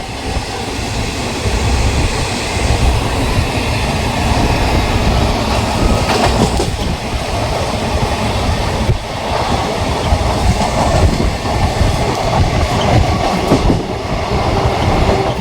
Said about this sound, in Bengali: পাশাপাশি ট্রেনের পাল্লা চলছে বন্ধুরা।